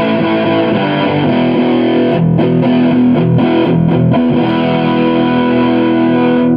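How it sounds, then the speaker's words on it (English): A distorted electric guitar plays chords through a Telecaster bridge single-coil pickup, a thin, bright tone, loud and continuous, with a few short breaks midway. "You can hear how bassy, and this is a Telecaster single coil pickup."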